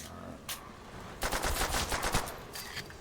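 Rapid bursts of gunfire from a gun in the World War II shooter Call of Duty: World at War, Der Riese zombies map, with a short shot early on, then a dense loud volley of repeated shots.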